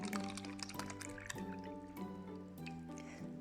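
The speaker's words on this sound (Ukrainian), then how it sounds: "наливаємо сюди водички." Water poured into a small cup for a paint and fizzy-tablet experiment, a quiet close trickle with faint glugging and filling tones in short bursts.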